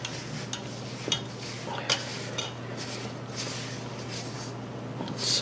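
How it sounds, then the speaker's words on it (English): Pizza dough mixed by hand in a bowl until it forms a ball, heard as soft steady stirring and scraping with a few light knocks against the bowl, close and continuous. "Carefully mixing it until it forms a ball."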